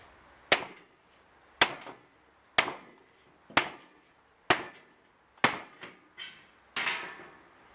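A Schanz Agricola machete's tip strikes 0.6 mm steel sheet in a series of about eight sharp, loud metallic chops, spaced roughly a second apart, each ringing briefly before fading.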